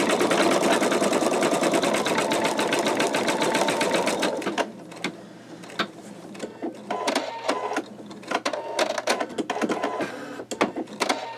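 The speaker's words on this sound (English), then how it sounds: "I'm going to pause and let this continue stitching out" An embroidery sewing machine stitches a design onto a T-shirt, a fast, dense mechanical whir for about four seconds, then quieter intermittent clicks and ticks over a low steady hum.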